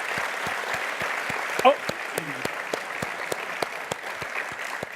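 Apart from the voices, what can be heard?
audience applause for the coaches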